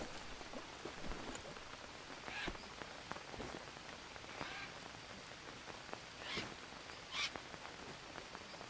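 Steady rain pattering on surfaces in a survival video game, a constant soft hiss broken by scattered louder drops and splashes, heard alone at low volume.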